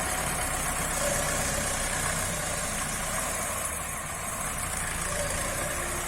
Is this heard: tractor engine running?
yes